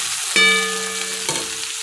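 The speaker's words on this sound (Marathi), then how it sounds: "आता टोमॅटो टाका आणि तोही व्यवस्थित मिक्स करून घ्या" Tomatoes are stirred into frying cabbage in a pan, a steady sizzle with a sharp metallic clink and ring from the spoon against the pan, followed by a second scrape.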